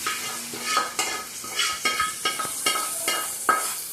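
Hot oil sizzles steadily as tempering is added to mint chutney, with repeated sharp crackles and spoon scrapes in an irregular rhythm, close and fairly loud.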